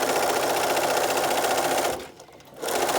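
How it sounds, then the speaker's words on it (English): A sewing machine edge-stitching the bottom of a pleated fabric mask, a loud, close, continuous whirr that pauses briefly at the corner pivot before running again. "This edge stitching, the bottom edge of the mask."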